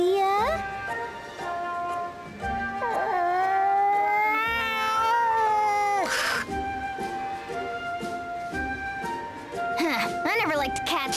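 A cat in the video game Bravely Second gives a long series of rising, wavering meows and caterwauls, loud and close, with a short noisy burst midway and more yowls near the end.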